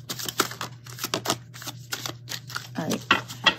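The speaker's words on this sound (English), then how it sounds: "I actually would like to shuffle this like I did last time." A deck of tarot cards is shuffled in rapid close clicks and flutters, with a voice talking over it.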